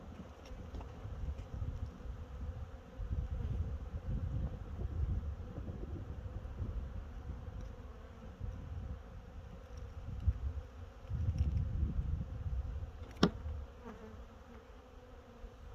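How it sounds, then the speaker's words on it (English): Honeybees buzzing at an open hive during a hive check, a dense, steady swarm drone close to the microphone with low wind rumble and no talk. "There's a lot of bees."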